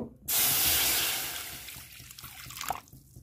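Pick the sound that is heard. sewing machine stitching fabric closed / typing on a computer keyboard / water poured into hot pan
water poured into hot pan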